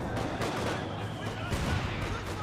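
Base machine gun fire from Company of Heroes 2 rattles in quick, dense bursts at middling distance with other battle noise, while a commentator talks over it.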